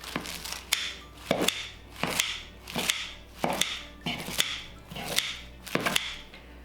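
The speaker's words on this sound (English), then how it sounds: "The first thing I'm gonna do is cut these down." A knife chops salad greens on a cutting board in a steady series of crisp, close strokes, about ten sharp cuts spaced fairly evenly, with no talking.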